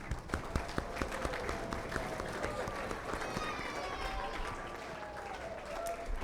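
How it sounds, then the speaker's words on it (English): Middle school students in a school outreach assembly applauding, a moderately loud crowd of clapping with scattered sharp claps and chatter-like noise mixed in, heard in a large room. "Let's give him a round of applause."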